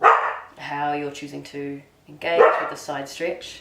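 A dog barks several times indoors at close range, its sharp, loud barks mixed with a calm voice talking through a yoga stretch.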